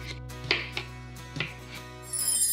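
A knife halves a washed raw potato on a board in a home kitchen, giving a few sharp, separate knocks spaced out over a couple of seconds against a quiet background, close by and fairly loud.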